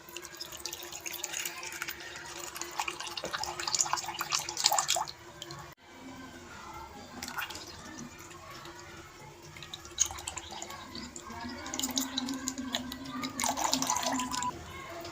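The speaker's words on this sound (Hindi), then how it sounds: "इसमें डालते हैं फ्रेश जूस, डालते हैं मौसमी का" Fresh sweet lime (mosambi) juice pours into a mug in a home kitchen, a soft steady trickle and dripping that runs through most of the stretch, with faint background hum.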